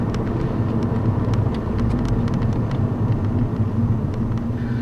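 Steady low road rumble inside a 2010 Volkswagen GTI with a six-speed manual, driven at night on worn tires, a constant loud broadband drone with no talking.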